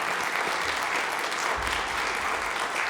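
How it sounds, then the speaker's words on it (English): Sustained audience applause at an athletic hall of fame induction ceremony, a dense, even roar of many clapping hands filling the whole moment, moderately loud and steady with a low thump partway. "One more round of applause."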